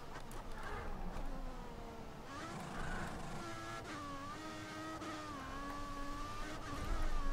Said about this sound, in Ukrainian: Потужний двигун Феррарі